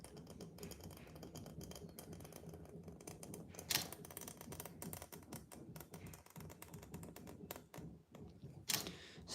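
An ink pen nib scratches across paper while lines are traced, giving faint, irregular scratching strokes and light taps, close and quiet, with no talking.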